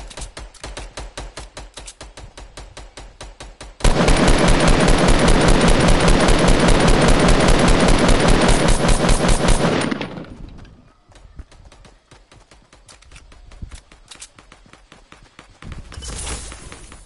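Video game gunfire blasts in dense, loud rapid bursts, first steady repeated shots and then a long sustained automatic volley that fades out, with further shots resuming near the end.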